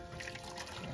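Hot water poured into a cooking pot (cazuela) scorched from making popcorn, a steady close liquid splash and trickle lasting about a second.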